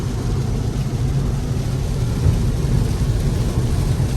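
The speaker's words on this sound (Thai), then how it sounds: "ฝนตกค่อนข้างหนัก" Heavy rain pours down on a car being driven, a dense, steady roar of rain blended with low road and engine rumble, continuous and close, with no talking.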